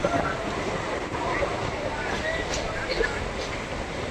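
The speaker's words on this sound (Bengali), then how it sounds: "এই মুহূর্তে আমাদের ট্রেন প্রবেশ করছে তার প্রথম হল দুর্গানগর রোড রেলওয়ে স্টেশনে" Steady rumble of a local train entering Durganagar Road station, heard from inside a carriage, with faint rail clatter and a few squeaks as it rolls along.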